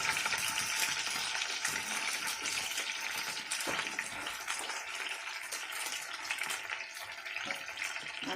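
Chicken stick kebabs fry in a pan with a steady, broadband sizzle that holds at an even level, with a few sharper crackles and pops scattered through.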